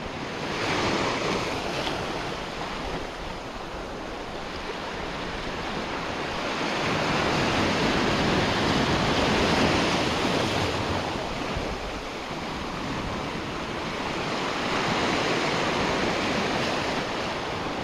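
Gentle sea waves wash in and recede in slow, broad surges, with a steady rush of wind over the microphone throughout.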